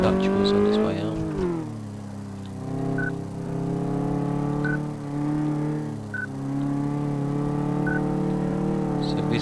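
A car driven in the Car Mechanic Simulator 2014 game, with a steady engine drone that rises and falls across gear changes and short whining tones, a person speaking over it.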